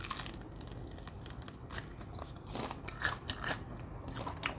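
Crunchy, extra-spicy fried intestines being bitten and chewed up close, with a run of sharp crackling crunches and bites that come and go irregularly with no talking.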